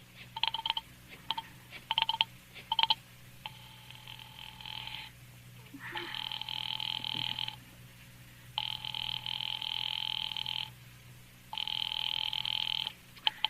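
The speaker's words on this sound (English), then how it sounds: "Ringing the police department" A telephone rings in repeated long electronic trills with short pauses between them, after a few brief clicks and tones at the start.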